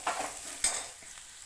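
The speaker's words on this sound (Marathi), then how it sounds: "चटणी चांगली आता फ्राय भाजून काढली कांद्यात।" Chili chutney fries with onions in a pan for a moth bean dal dish, faint sizzling broken by a few sharp spatula scrapes and stirring taps.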